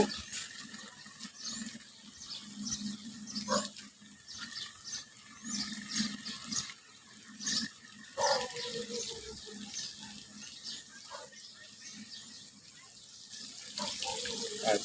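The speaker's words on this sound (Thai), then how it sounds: "ฝนตกท่านผู้ชมฝนตก มาอีกแล้ว" Steady rain falls at an outdoor garden attraction with a waterfall corner, a continuous close wash of water with scattered drips and a few brief voices in the background.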